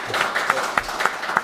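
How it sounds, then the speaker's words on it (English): Room audience clapping after a panel discussion on creative free expression, a dense, even patter of many hands with occasional louder individual claps rising above it, with no talk. "I want to just extend an applause now from the room here for the nice discussion"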